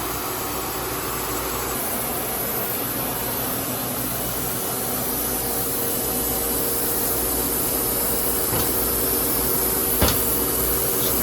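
A sawmill squares up a badly degraded log, its steady broadband cutting roar running unbroken and loud throughout, with a sharp knock near the end.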